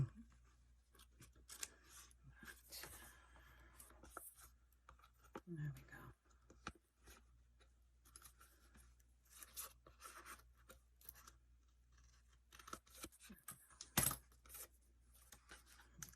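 Scissors snip through paper while a Barbie Christmas mini album is being made, giving a series of close, quiet cuts and rustles over a low steady hum. A voice speaks in between.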